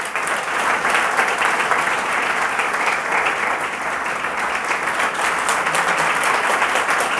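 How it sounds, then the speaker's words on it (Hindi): Loud, sustained applause from a large audience at a ceremony welcoming and garlanding guests at a school lecture event for an exam topper, continuous and even for the full stretch with no voices on top. "जोरदार तालियों के साथ"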